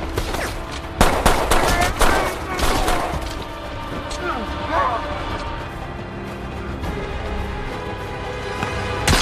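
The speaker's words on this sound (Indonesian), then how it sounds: "berjuang menghadapi para tentara Amir Asif, tiba-tiba saja sebuah peluru langsung bersarang di kepalanya." Gunfire rings out in an action-film battle scene as soldiers fight, with loud sharp bursts early on that fade into a busy mix of shots, impacts and background commotion.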